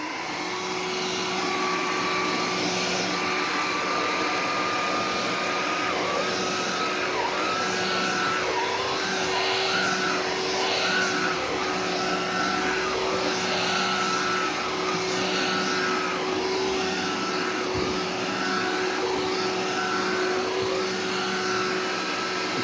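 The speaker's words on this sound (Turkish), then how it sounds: "Süpürgemizin içi de boş. Şimdi başlıyorum." A Philips SpeedPro Max stick vacuum cleaner cleaning a sofa runs continuously up close on its first power level, a loud steady whine and roar that shifts slightly as it works, with no talking.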